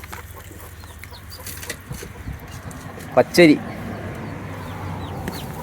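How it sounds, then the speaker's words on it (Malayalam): Chickens and chicks on a Gujarat farm, a quick pair of clucks standing out briefly against soft outdoor background noise, with a person speaking nearby. "ഇവിടെയുണ്ട് കേട്ടോ കോഴിക്കുഞ്ഞുങ്ങൾ"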